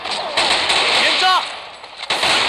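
Bursts of T91 rifle fire in the Thunder Strike video game, loud and close, overlapping with a game voice speaking.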